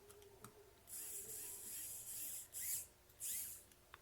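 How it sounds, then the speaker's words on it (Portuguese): Tiny screw tightened on the back of a Timex Expedition watch, several short close ratcheting whirs in quick bursts with small clicks between, quiet setting, no talk. "Agora eu vou apertar aqui o parafusinho."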